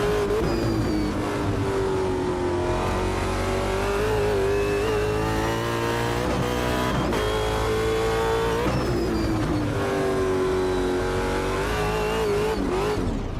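Race car engine in a sim racing game revs hard and continuously, its loud harmonic whine rising and falling with throttle changes, dipping briefly around shifts before climbing again, steady and close throughout.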